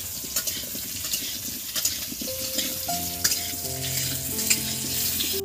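Potatoes frying in a pan until lightly reddened for a soybean dish, giving a steady close sizzle throughout with occasional stirring scrapes and soft clinks.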